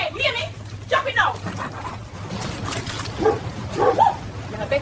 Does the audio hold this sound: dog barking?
yes